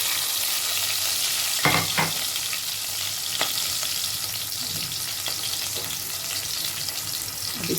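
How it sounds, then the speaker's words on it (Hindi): Finely chopped garlic and red chillies fry in hot oil with a steady close sizzle and crackle, broken by a few sharp pops and stirring scrapes, with no talking. "अब इसको हल्का सा फ्राई कर लेते हैं, बहुत ज़्यादा डार्क नहीं करना।"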